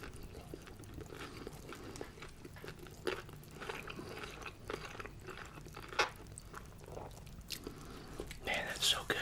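Close, quiet bites and soft chewing of an Italian sub sandwich with oil, vinegar, onions, hot peppers and pickles, with crunchy crackles and moist mouth sounds, intimate and near.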